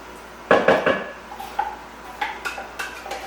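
Canned food tipped into a small casserole dish, with a clatter of metal and dishware followed by a few lighter knocks and scrapes, close and unaccompanied by talk.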